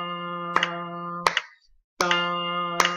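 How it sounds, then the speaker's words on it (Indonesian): Slow rhythmic hand claps, four sharp beats spaced evenly at about one per second, close and distinct over a steady sustained tone. "Lagi, Mister bantu sama tepuk tangan ya,"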